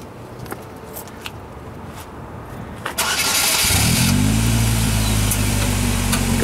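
A vehicle engine, an old Slingshot, starts up partway through, then revs and runs steadily loud and close as it pulls away, after a stretch of quieter outdoor background.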